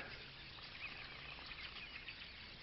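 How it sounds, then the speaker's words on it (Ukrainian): Starlings calling in spring, a busy chatter of high chirps and whistles spread steadily through the air, moderately distant, with no talk over it. "Довкола мене шпаки біснуються аж."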